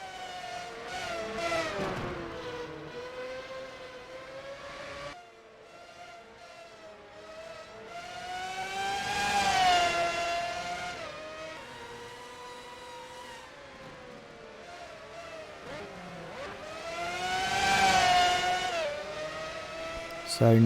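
Formula 1 cars race past at Zandvoort in the NR2003 racing game, Ferraris among them: high engine whines rise and fall as cars sweep by in two clear passes, with a commentator speaking throughout.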